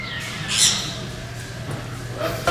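A bird inside a science center gives one loud, harsh squawk near the start, then a few fainter calls over a steady indoor background hum.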